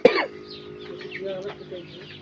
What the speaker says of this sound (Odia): ବଢ଼ିଆ କୁକୁଡ଼ା ଅଛନ୍ତି ଦେଖିପାରୁଥିବେ, ପୁରା ଫ୍ରି ଅଛନ୍ତି ଭାଇ କୁକୁଡ଼ା।